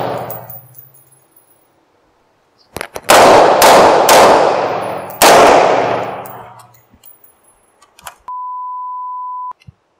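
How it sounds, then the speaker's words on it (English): Futuristic-looking gun firing about four loud, sharp shots in a quick irregular burst, each with a ringing decay, followed by a steady electronic beep tone. "And I'm going to put a few more rounds down."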